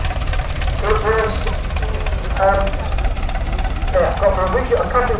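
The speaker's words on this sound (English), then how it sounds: "This car would be the 7-litre, 4-cylinder petrol engine." A 1923 vintage lorry with a 7-litre four-cylinder petrol engine runs at a steady, low, rumbling idle in a festival arena, while someone talks over it throughout.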